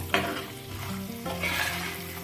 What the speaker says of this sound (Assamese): এতিয়া কেঁকুৰাখিনি আমি দি দিছোঁ ইয়াতে লগতে তেলখিনিও দি দিম